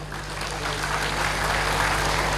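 An audience applauds the mayor at a Konak municipal event in İzmir, a continuous, even wash of clapping from a crowd over a steady low electrical hum, building slightly in loudness.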